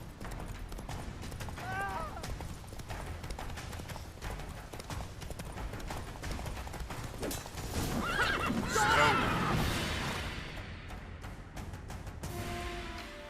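Roach, Geralt's horse in The Witcher 3, gallops with steady hoofbeats and lets out a neigh midway, while voices talk over the scene.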